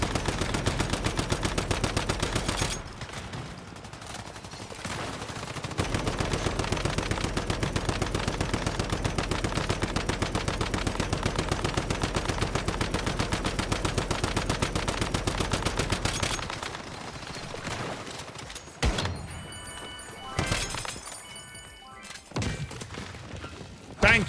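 Sustained, dense automatic gunfire from the survival shooter Once Human, a long unbroken stream of rapid shots with brief pauses, then scattered bursts and impacts near the end, loud and close with little talk.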